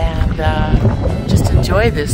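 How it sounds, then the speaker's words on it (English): Wind buffets the microphone as a low, steady rumble beneath a man's speech beside a Honda Element camper, with a faint engine-like hum in the background. "Sorry about the wind."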